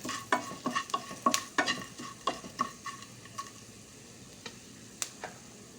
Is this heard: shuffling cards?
no